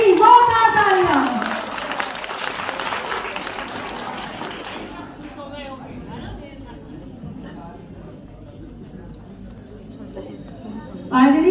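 Audience at a school farewell party claps after a student is named for a title. The applause is moderately loud at first and fades to a scattered patter under an amplified announcer's voice.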